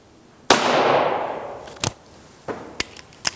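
A single sharp gunshot from a small emergency survival gun strikes a chain hanging from a fence about 40 yards off, the loud crack ringing and decaying, then a few fainter metallic clanks follow.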